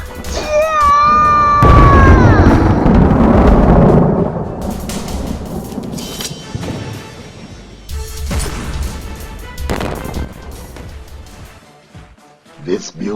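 A thunder and lightning effect: a loud, sudden crash swells into a heavy rumble that rolls for a few seconds, then fades into quieter rumbles, with voices and a cry over it.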